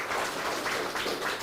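Brief, fairly soft applause from an audience of farmers at an outdoor village gathering in Uttar Pradesh, a steady patter of clapping with no voices on top.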